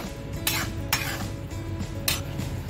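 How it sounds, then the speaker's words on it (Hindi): Veg manchurian balls being stirred into thick gravy in a pan, with three sharp spoon scrapes and clinks against the metal over a low bubbling simmer. "तो अब मैं इसमें डाल दूंगी ये अब मेरे जो हमने बॉल्स रेडी किए थे वो, और इसके साथ अच्छे से मिक्स कर लूंगी।"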